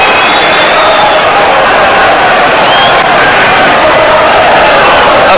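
A football crowd roars at a 1991 Grimsby Town match against Villa, a loud, dense, sustained wash of massed voices with rising surges of cheering, close and continuous throughout.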